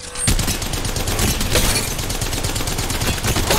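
Gunfire in Apex Legends Mobile, a loud, dense burst of rapid shots that kicks in abruptly and keeps rattling steadily for several seconds, with a few sharper cracks standing out.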